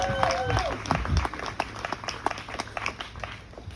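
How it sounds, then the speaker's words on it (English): Audience at a July 3rd celebration breaking into a round of applause, a short burst of clapping and crowd noise with a few voices mixed in, fairly close and lively. "So give yourselves a round of applause."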